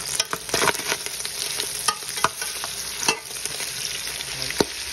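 Pork belly frying in a pan, a steady close sizzle broken by sharp crackles and pops and occasional stirring scrapes, with no voices.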